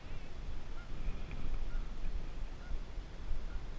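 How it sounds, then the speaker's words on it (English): A goose near the water on a Texas fishing outing gives a few faint, distant honks over a steady wash of outdoor noise, with no voices. "That goose was just like hiding out up here."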